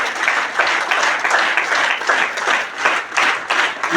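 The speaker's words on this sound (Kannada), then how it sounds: "ಶಾಲೆ ನಡೆಸುವವರಿಗಾಗಿ ಒಂದು ಸರಿ ಜೋರಾಗಿ ಚಪ್ಪಾಳೆ ತಟ್ಟಿ" An audience clapping loudly for the people who run a school, dense steady applause in rhythmic swells throughout, with no voices over it.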